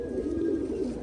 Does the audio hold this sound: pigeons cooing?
yes